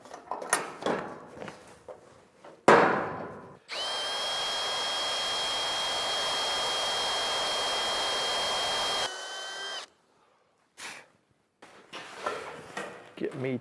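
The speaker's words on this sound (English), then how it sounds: "I want to drill this out, and I want to put in a 5/16 T-nut" Power drill boring out a hole for a 5/16 T-nut on an off-grid homestead build, a steady whining run of about five seconds between clunks and handling noises, with bursts of talk around it.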